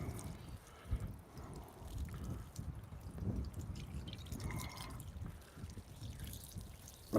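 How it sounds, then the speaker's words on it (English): Water drips and trickles as a boat deck lid is washed down to rinse off dust, a steady low splashing and patter that runs the whole time, close by and fairly quiet with no talking. "wash this deck lid off, get all the dust and shit off of it"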